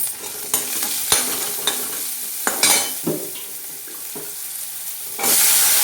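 Onion and chopped pumpkin fry in a pan with a low sizzle, punctuated by several distinct spatula knocks and scrapes, before a loud, bright hiss surges in and holds to the end.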